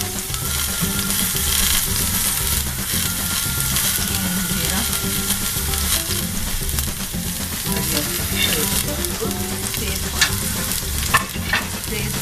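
Onions frying in a pan for moong dal khichdi sizzle steadily and loudly up close, with stirring scrapes and a few sharp clinks of a utensil against the pan near the end.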